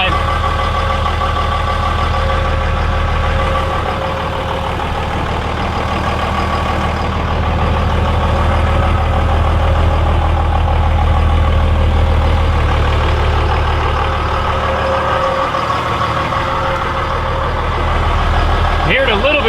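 Two-wheel-drive Cummins diesel truck sitting on jack stands, idling in drive with its wheels free, a steady low rumble running loud and continuous throughout.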